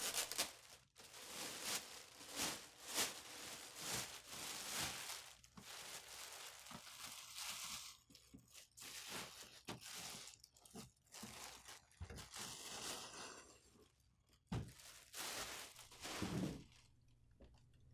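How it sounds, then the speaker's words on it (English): Plastic bag crinkles and rustles in irregular bursts as an HP Color LaserJet Pro MFP M277dw laser printer is pulled out of its wrapping, close and continuous throughout. "Remove the printer from the bag."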